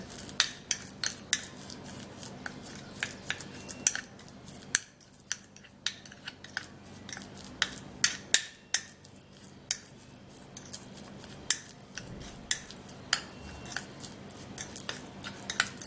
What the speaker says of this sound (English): Then I'm going to be stirring and mixing it up.